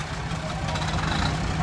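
A 1937 John Deere A tractor engine idles nearby, a steady low throbbing rumble running unbroken under continuous crowd and announcer chatter.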